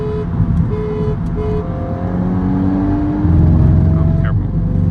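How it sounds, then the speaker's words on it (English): A stock BMW M340i with a B58 engine and a stock MK8 Golf R race from a 60 mph roll, heard as a steady engine drone and tire roar that grows louder and rises in pitch as the cars accelerate. "next up we're going to do a 60 roll, but the M340 is going to give us a little bit of a jump"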